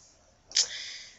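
A single soft mouse click in 3DS Max, picking the no option during terrain generation, lands mid-clip and fades into a low, steady hiss.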